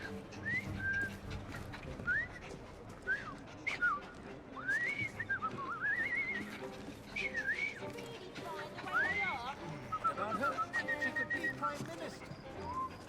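A character in Assassin's Creed Syndicate, set in Victorian London, whistles a wavering, tuneless string of short rising and falling notes over a murmur of background game sound and voices.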